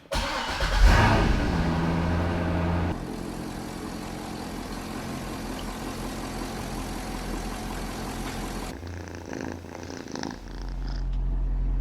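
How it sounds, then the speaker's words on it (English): A C6 Corvette engine cranks from a cold start and catches, then settles into a steady idle, with the pitch of the running engine shifting slightly near the end. "listen to the engine from a cold start"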